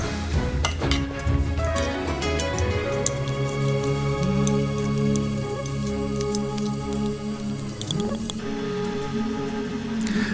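Ingredients being mixed by hand for pidi kolukattai, a Ganesh Chaturthi sweet, with steady clinks and scraping stirs against a vessel running throughout, close and fairly loud, no talking.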